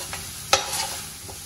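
Green chillies and salt sautéing in a pan, a steady close sizzle with one sharp stirring scrape partway through and a couple of softer utensil touches, no voices.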